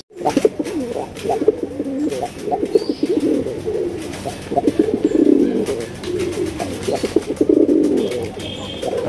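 A male Raj Golla pigeon coos repeatedly in rolling, throaty phrases, close and clear, with steady rhythm throughout.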